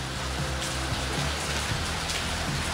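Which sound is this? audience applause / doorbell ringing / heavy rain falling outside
heavy rain falling outside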